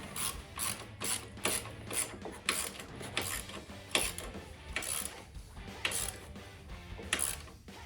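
A hand ratchet clicks in short bursts while snugging a battery terminal bolt on a Harley-Davidson Dyna Super Glide, each pull giving a quick run of close pawl clicks separated by brief pauses.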